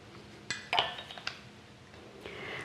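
A utensil scrapes and clinks against a pot while stirring red pepper flakes into a gluten-free dish, with a few sharp metallic taps and soft scraping, close and quiet, no talking.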